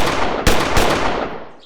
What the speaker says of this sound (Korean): 총소리는 몇 차례 더 반복되다가 그쳤고